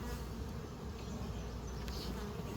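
Honey bees buzz steadily at an open hive during an inspection, a dense, continuous drone close by with no talking.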